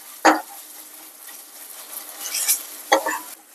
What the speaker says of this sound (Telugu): 1 టేబుల్ స్పూన్ అల్లం వెల్లుల్లి పేస్ట్ వేస్తున్నాను. ఒకసారి ఇలా ఫ్రై చేసుకున్న ఆయిల్లో.